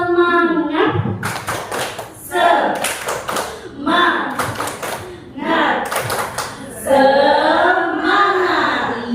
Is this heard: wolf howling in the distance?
no